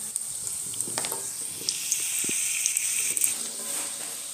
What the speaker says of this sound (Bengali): ধনেপাতার বড়াগুলোকে ভেজে নেব।